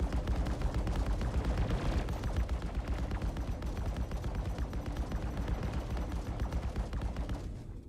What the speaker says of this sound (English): Damn, turrets have a punch to them.